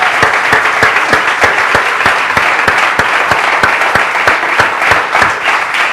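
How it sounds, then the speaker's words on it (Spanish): Congregation in a church applauding steadily throughout, dense sustained clapping with no pauses and no talk. "Démosle un aplauso al Señor."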